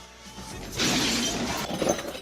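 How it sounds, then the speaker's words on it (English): A box filled with broken glass slams against a door and shatters, a single loud burst of crashing glass and rattling shards lasting about a second and a half, followed by a sharp clack at the end. "I filled the box full of some broken glass. That way, when I hit the door, you'd hear it break."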